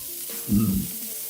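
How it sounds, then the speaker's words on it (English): A short burst of sizzling as a burger patty hits a hot griddle, rising briefly and then fading into a low hiss. "Listen to that sizzle."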